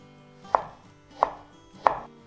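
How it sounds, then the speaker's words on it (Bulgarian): A knife chops celery for a vegan Bulgarian monastery-style bean dish: three sharp, evenly spaced blade strikes on a cutting board, close and distinct, with quiet room tone between them. "Вземам 2 резана и ги нарязвам на парчета."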